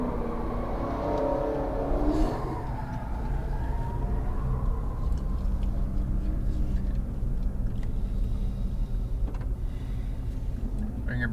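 A Nissan GTR under light throttle through a left corner, its engine a steady low rumble inside the cabin, with a driver talking over it at the start.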